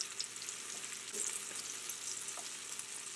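Venison steaks sizzle in a pan over an open fire, a continuous close crackle and hiss with small pops throughout and no voices.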